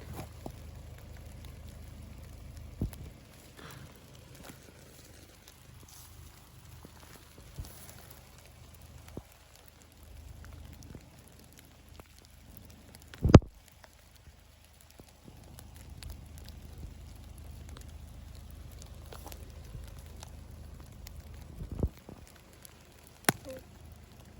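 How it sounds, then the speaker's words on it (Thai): Rain falls faintly in a forest, a soft continuous patter broken by a few sharp knocks and thumps nearby, with no clear talking. "อย่าลงไปมันเปียก ฝนตกนะ"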